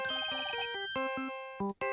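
Bright electronic ringtone melody from a phone in the Phoenix Wright video game, a short tinkling chiptune phrase of stepped beeping notes that pauses, then resumes in two quick bursts, heard alone.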